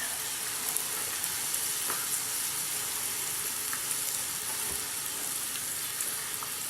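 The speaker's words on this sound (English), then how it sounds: "Now, let's mix the chilies in for a minute." Chilies stir-fry in a pan for Thai basil chicken, a loud continuous sizzle with occasional light clicks of a utensil against the pan, steady throughout and free of speech.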